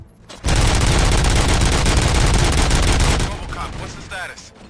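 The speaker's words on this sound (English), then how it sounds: "Gunshots? What's going on?" Rapid sustained gunfire in the Robocop: Rogue City video game, a dense loud burst of shots lasting about three seconds before cutting off to fainter clatter and echoes.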